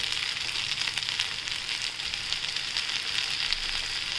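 Corn rice sautés in a pan right after lemon juice is added, giving a steady, close, even sizzle that runs unbroken throughout with no talking.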